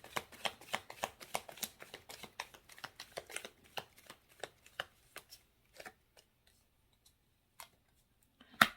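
Tarot cards are shuffled and handled during a reading, giving a fast run of crisp flicks and snaps that thins out into sparse single taps and a final sharp click, close and clear with no talking.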